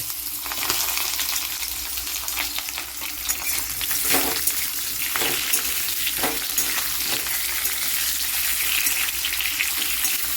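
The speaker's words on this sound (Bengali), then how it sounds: "এবার কিছুক্ষণ আমটাকে আমি এই তেল সর্ষে সব কিছুর সঙ্গে একটু কিছুক্ষণ আমি ভেজে নেব।" Raw mango pieces frying in mustard oil for a Bengali sour mango dish: a loud, continuous sizzle close by, with occasional stirring scrapes and soft knocks in the pan.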